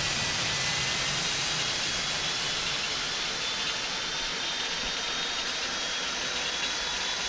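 Jet engines of a Boeing 747-200 in X-Plane 12 run as a steady, loud broadband roar with a high whine, unbroken and without talk, sounding stabilized after start.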